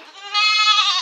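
A goat gives one loud, close bleat lasting about a second, wavering and nasal, with no voices over it.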